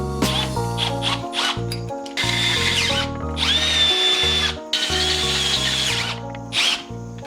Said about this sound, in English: I just have to drill the holes, or just the one hole